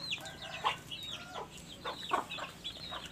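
Backyard chickens cluck and chatter in a steady overlapping stream, mid-distance and moderately loud, with no talk over them.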